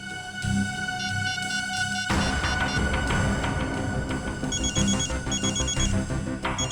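A mobile phone rings in a police office, a repeating electronic ringtone with a steady tone shifting into a busier melodic pattern, fairly close and alone without talk.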